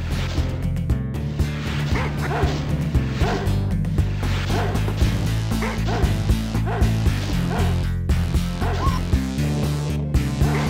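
Dogs in the video game DooM bark repeatedly in quick yapping bursts over loud game music and action sounds, close and busy throughout.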